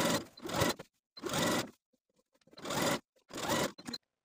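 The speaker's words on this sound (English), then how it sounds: "Then I'm going to edge stitch close to that folded edge all the way around." A sewing machine edge-stitches close to the folded hem of a woven dress sleeve, running in four short, even bursts separated by brief pauses, up close with no talking.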